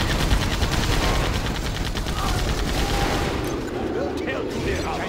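Continuous rapid gunfire from a Gatling tank in the Generals Shockwave real-time strategy game, a dense unbroken rattle across the whole stretch, with a faint game voice line mixed in near the end.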